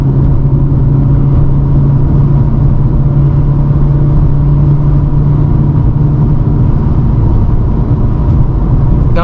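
Pontiac G8 engine revving steadily under acceleration, a loud close rumble with a strong low drone held throughout.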